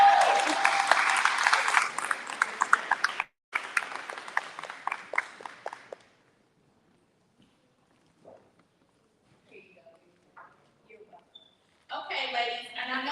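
Audience applause welcoming a speaker at a women's business summit, loud and dense for about three seconds, then a sparser patter of claps that fades into near silence before a voice begins speaking.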